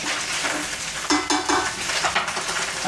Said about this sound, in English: we're going to add in the mushroom and the eggplant. Just stir them together.